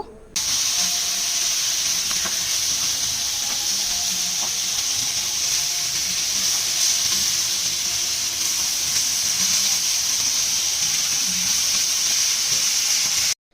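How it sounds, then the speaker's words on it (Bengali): Hilsa fish frying in oil in a pan on a stove, giving a steady, loud, even sizzle with hissing steam that holds unbroken for about thirteen seconds, with no voices. "চুলায় পরিমাণ মতো তেল দিয়ে এক এক করে সবগুলো মাছ দিয়ে দিচ্ছি"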